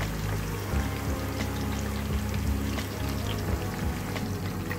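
Chicken lollipops fry in hot oil over a medium flame, giving a steady, soft crackle and bubbling sizzle that runs without pause, with no one speaking.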